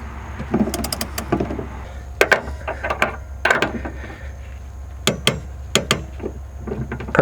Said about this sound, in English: so we're torquing this down to 30 foot-pounds